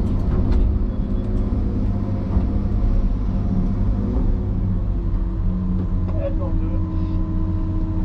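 A loaded log truck pulls out at a logging site at sunrise, its heavy diesel engine droning low and steady, close by and continuous throughout, with a voice talking over it.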